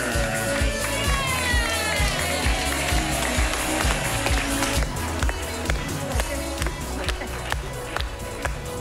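Theatre audience at an improv comedy show applauds the comedy players, steady dense clapping with some cheering mixed in, a room-filling crowd sound throughout.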